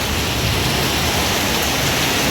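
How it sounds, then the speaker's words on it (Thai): Heavy rain pours steadily as a dense, even hiss with no break, loud and close, at a farm in the first downpour of the year. "บรรยากาศดีฝนตก"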